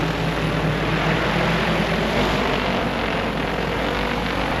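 A propeller aircraft approaches to land at a quarry, a steady, loud engine drone holding evenly throughout with no talk.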